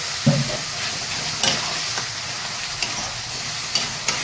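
A spice masala with a little water is stirred in a pan, giving a soft, continuous sizzle and bubbling, with several short scraping strokes from the spoon at irregular moments.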